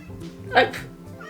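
A single short meow from a cat, close by, rising out of a steady low background hum.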